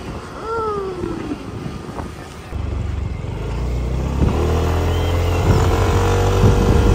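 A motorcycle engine hums steadily while riding on Pangkor Island, Malaysia, its drone rising and holding under rushing wind noise, with no talking.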